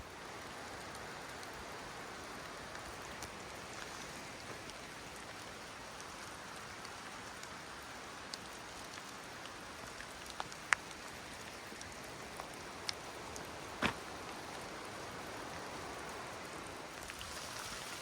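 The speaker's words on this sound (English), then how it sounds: "It is absolutely pouring." Heavy rain pours through a redwood forest near a riverbank at Henry Cowell Redwoods, a steady soft hiss of falling water with scattered sharper drops tapping close by.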